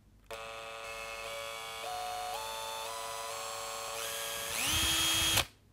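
A Makita 18-volt LXT cordless combi drill with a 4-amp battery whirs steadily and alone for about five seconds, its motor pitch stepping up in stages before a final loud high-speed burst and abrupt stop.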